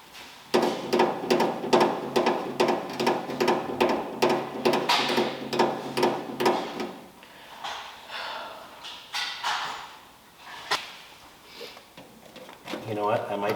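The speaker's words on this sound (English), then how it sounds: "I need a little punch and a hammer" Hammer and punch knock at a rivet while fitting a heater, a fast run of sharp metallic taps that slows into scattered blows, with a person talking over the work.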